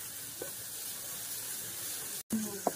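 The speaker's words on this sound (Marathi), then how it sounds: "हे 2 मोठे कांदे बारीक चिरून घेतलेले, छान असं परतून घ्यायचं तेलामध्ये, थोडासा ब्राऊन कलर येईपर्यंत" Finely chopped onions sizzle in oil in a pan, a constant close hiss with a brief pause near the end and a couple of light clinks from stirring.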